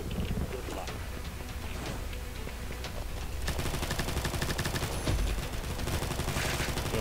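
MAC-10 gunfire in a shooting video game, sparse shots at first, then a rapid, steady stream of close automatic fire from about midway, mixed with a voice and background game noise.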